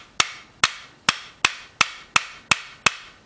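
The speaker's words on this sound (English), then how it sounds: "I'll just give that a little tap." Eight sharp, evenly spaced taps of a plastic screwdriver handle against the reassembled mechanism of a Bruni 1911 blank-fire pistol, close and crisp, each with a short decay, no talking.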